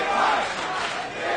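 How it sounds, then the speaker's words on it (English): Crowd at a New Japan tag team wrestling match cheering and shouting, a dense, steady roar filling the arena without a break. "Look at these Melvins cheering for Big Mike"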